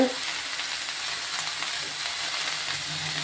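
Fresh greens from a rooftop garden sauté in a pan with a loud, steady frying sizzle from start to finish, with no voices.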